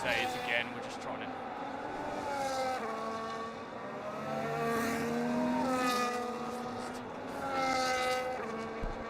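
Formula 1 race car engines in the F1 25 video game at the Austria Grand Prix, high-pitched whining revs climbing and dropping through repeated gear changes, with a voice talking over them.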